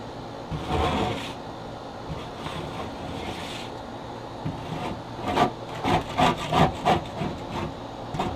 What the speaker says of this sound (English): We want to use this end of the brush. Want to scrape that out.